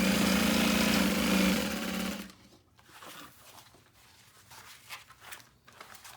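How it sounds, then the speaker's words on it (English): A sewing machine runs steadily, stitching around the lining of a fabric bag, then stops abruptly, leaving faint handling and rustling sounds. "we're just gonna sew all the way around the box"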